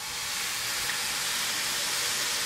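White wine hits a hot pan of rice being cooked for chicken curry with basmati, giving a steady, loud, unbroken sizzling hiss with no voices.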